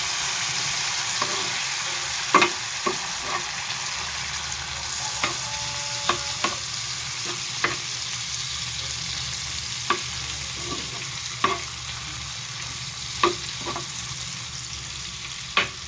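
Dried anchovies sautéing with oyster sauce in a pan, stirred with a utensil that clicks and scrapes sharply every second or so over a steady close sizzle, with no talking.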